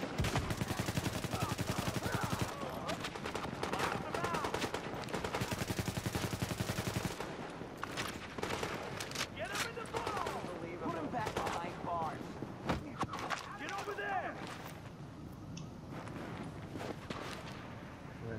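Gunfire in The Division, a third-person shooter on Xbox: a loud sustained burst of automatic fire, then scattered shots and footsteps in a busy mix.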